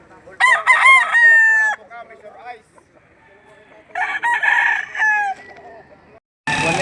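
Roosters crow loudly and close at a livestock auction market in Lipa City, Batangas, two long drawn-out calls separated by quieter clucking and soft background noise, with a sudden burst of broadband noise at the end.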